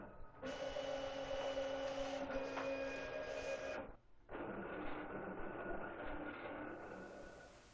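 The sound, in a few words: Clipper 24 inch vinyl cutter cutting wall graphic material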